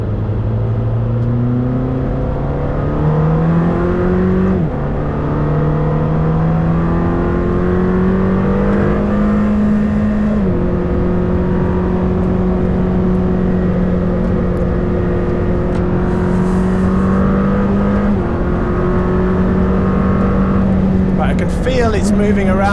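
Lamborghini Temerario sports car lapping a race track, its engine note rising and falling steadily through gear changes from inside the cabin, loud and continuous, with someone talking over it.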